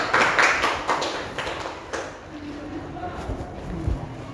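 Classroom students clapping for classmates after a group presentation, a short ragged burst of hand claps that fades within about two seconds, followed by quiet room noise and faint voices.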